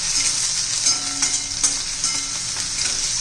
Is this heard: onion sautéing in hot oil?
yes